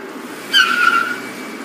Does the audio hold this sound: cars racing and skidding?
yes